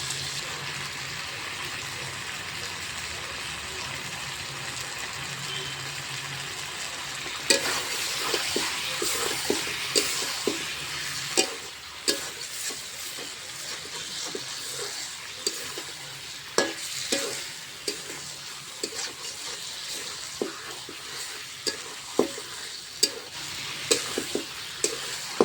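Meat cooks down in spiced masala in a pan, a low steady sizzle punctuated by repeated scraping and clanking of a spatula against the pan, the stirring growing busier and sharper partway through.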